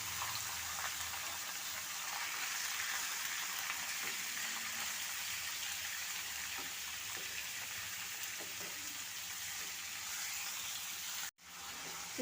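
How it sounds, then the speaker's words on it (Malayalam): Chicken pieces sautéing in oil with curry leaves for garlic chicken: a soft, continuous sizzle and crackle, fairly faint and steady, with a brief handling knock near the end. "ചിക്കൻ എണ്ണയിൽ കിടന്ന് വരണ്ട്"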